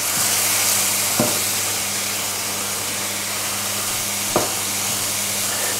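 Fresh, roughly chopped tomatoes sizzle in a hot pan in a steady hiss, and two sharp scrapes of a stirring utensil break through, close up.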